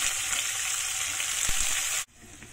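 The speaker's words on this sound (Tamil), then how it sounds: "வதக்கறதுக்கு சேர்க்கறோம்." Onions sautéing in hot oil for a Chennai-style fish curry give a steady, close, broadband sizzle that cuts off abruptly near the end, leaving a quieter hiss.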